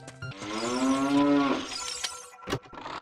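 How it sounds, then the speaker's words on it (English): A cow's moo stands in for the fairy companion Navi's voice in the video game Zelda: Ocarina of Time, with one long, loud lowing call followed by a sharp shattering crash and a few clattering game effects. "Navi moos a little bit."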